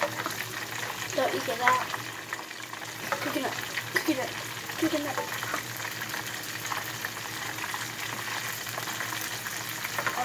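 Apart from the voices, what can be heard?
mac and cheese cooking on the stove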